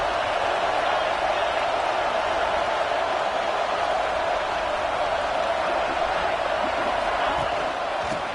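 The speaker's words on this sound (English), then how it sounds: "This crowd ready to make its presence known." A college football video game stadium crowd roars continuously and loudly, with a dense steady wash of cheering that holds throughout at a distance. No talk rises above the crowd.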